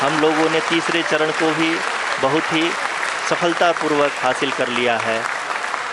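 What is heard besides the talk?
applause in mission control during Chandrayaan-3 landing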